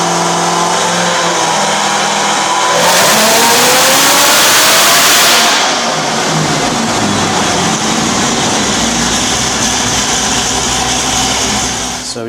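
A Corvette C6 ZR1 with an LMP heads and cam package revs hard on a dyno, its engine note climbing through the pull, peaking loud and raw, then easing off early into a lower, settling drone.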